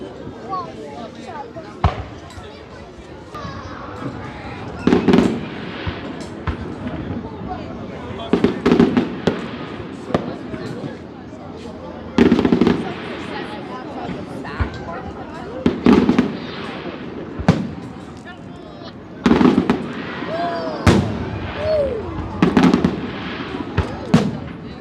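Canada Day fireworks in Regina, Saskatchewan burst in repeated loud bangs at irregular intervals, crackling over a noisy background with people talking between the blasts.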